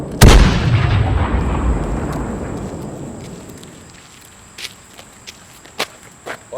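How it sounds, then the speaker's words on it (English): A single loud gunshot or blast booms close by and its rumble decays slowly over several seconds, followed by a few faint, scattered sharp knocks. "who the hell is shooting at us?"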